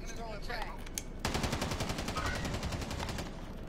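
Pistol fire in a Call of Duty Warzone match: a rapid string of sharp shots runs for about two seconds over background game noise, preceded by a single earlier report and faint voice.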